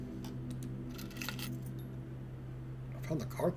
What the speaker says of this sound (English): I found the car keys though.